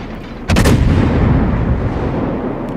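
Battleship main-gun salvo in the naval combat game World of Warships: a single heavy booming blast that rolls into a long deep rumble, loud and close, with no voices.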